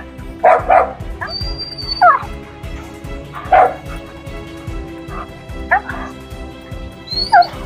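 German shepherd dog giving a few sharp barks and yips mixed with high whimpers, spaced irregularly and close by, with faint human voices in the background during obedience training.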